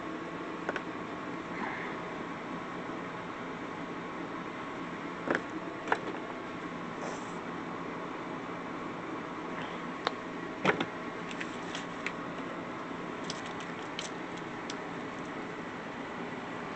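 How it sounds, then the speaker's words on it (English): A room air conditioner runs indoors with a steady, faint broadband whoosh and hum throughout, broken only by a few small clicks and ticks. "Let me shut my air conditioner off."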